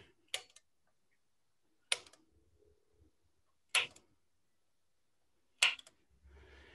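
Four sharp metallic taps ring out about two seconds apart, crisp and close, as a punch strikes a marked spot while making a spoon.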